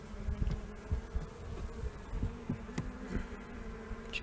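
A dense, steady buzzing of many honeybees close by at an overcrowded hive in April, a continuous droning hum with small rises and dips and no voices.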